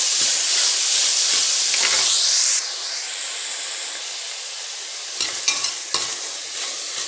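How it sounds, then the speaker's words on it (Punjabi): Chopped desi tinda (round gourd) frying in a pan with onion and garlic, giving a loud, steady sizzle and hiss that eases slightly midway, with a few clattering stirs near the end. "ਇਹ ਆਪਾਂ ਧੋ ਲਿਆ ਸੀ ਕੱਟ ਕੇ ਇਹ ਆਪਾਂ ਭੁੰਨ ਲੈਂਦੇ ਹਾਂ"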